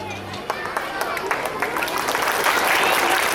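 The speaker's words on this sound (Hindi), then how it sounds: "आप लोग ताली बजाकर हमारे जो मेहमान हैं उनका खैर मकदम करें, स्वागत करें, अभिनंदन करें।" Applause breaks out at an Indian Public School program to welcome guests, starting scattered and swelling into a steady, dense clapping over crowd murmur and voices.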